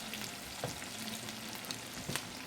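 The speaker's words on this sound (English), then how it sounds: "I'm going to put the potatoes in, and I'm going to let them soften for a few minutes" Potatoes added to a hot pot for potato soup give a continuous soft, even sizzle at low level, with a few faint scrapes or bumps scattered through it and no voices.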